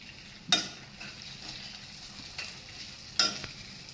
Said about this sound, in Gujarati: હા, હવે આપણે પૌવા નાખી દઈએ.